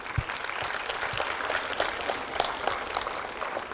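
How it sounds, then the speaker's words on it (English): An audience at a youth health consultation at AIIMS Rishikesh applauds performers after a recital, with steady, busy clapping at a moderate level and a few sharper claps standing out. "Kindly give them a huge round of applause."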